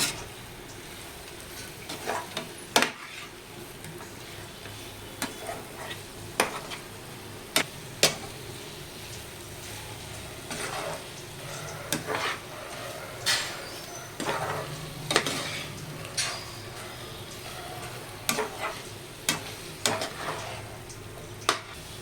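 Chicken fry curry cooking lightly in a pan, a soft continuous sizzle broken by sharp utensil scrapes and knocks against the pan at irregular intervals, fairly quiet and close, with no talking.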